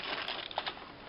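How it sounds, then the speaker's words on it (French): Crinkly rustling and crumpling of wrapping as a package is unwrapped, a soft continuous crackle with a few small snaps, faint and close. "on va déballer un peu."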